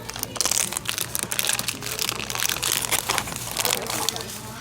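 A monkey noodle fidget toy handled in a shop, giving a rapid series of close crinkling, squeaky stretching sounds with a faint background hum.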